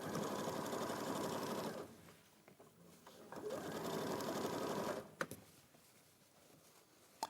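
Sewing machine stitching fleece at a stitch length of about 3, running in two steady bursts of roughly two and three seconds, with a brief pause and quieter handling noises between them and afterward.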